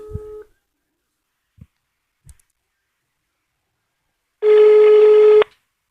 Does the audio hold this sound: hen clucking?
no